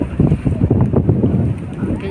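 Sea wind at a pier buffets the microphone in a steady low rumble, with a voice talking faintly underneath throughout.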